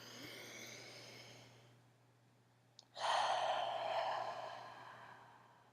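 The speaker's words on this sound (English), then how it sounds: "Let's take a deep breath in our nose." After a soft, breathy exhale, a slow, deep breath is drawn in through the nose, a loud close airy rush lasting a couple of seconds.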